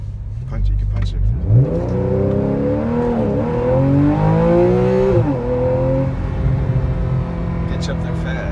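A 2014 Porsche 911 Carrera S Convertible accelerates hard, its engine note rising steadily through the gears at close range and loud throughout, with people talking over it.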